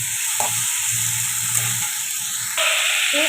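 Fried pointed gourd and potato pieces tipped into a pan of spice paste sizzling in oil, giving a loud, steady frying hiss with a few stirring scrapes and a sharper surge of sizzle near the end, no talking.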